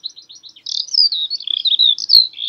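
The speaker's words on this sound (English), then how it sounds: "It is a bird that sings constantly while it's on the wing, constantly while it's in flight." A bird sings while in flight, a continuous high, fluttering run of rapid chirps and warbles, clear and fairly close against silence.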